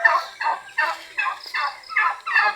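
Turkeys on a farm gobble in a rapid, rippling chorus, five or six loud bursts close by in quick succession with no talking over them.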